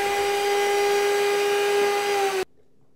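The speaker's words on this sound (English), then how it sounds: "Put the garlic, lemon juice and tahini in a blender and blend until smooth." A kitchen blender whirs steadily as it purees garlic, lemon juice and tahini, a loud, even motor whine that cuts off sharply near the end, leaving quiet.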